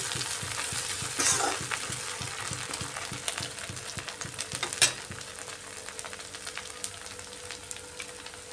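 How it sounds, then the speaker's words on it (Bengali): Dried fish paste (sidol) frying in a pan, with a steady, fairly quiet sizzle broken by the scrape and clatter of stirring and a couple of sharper knocks, and no talking. "সিদলটাকে একটু ভাজা ভাজা করে নিচ্ছি।"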